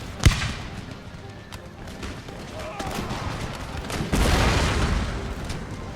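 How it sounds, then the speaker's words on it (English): Cannon and musket volleys in the Empire Total War naval battle at Martinique: a sharp boom opens, followed by scattered distant shots and rumbling bursts, swelling into a denser barrage late on. "The aid of the cannon shot is very helpful in this"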